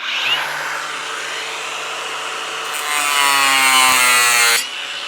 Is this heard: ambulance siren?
no